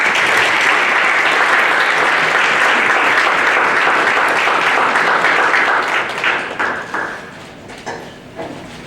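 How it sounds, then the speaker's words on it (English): Audience applause for school board candidates at the close of a chamber of commerce candidate forum in DeSoto: dense, steady clapping throughout a room that thins out and tapers into scattered claps over the last few seconds. "If you please give each candidate a round of applause."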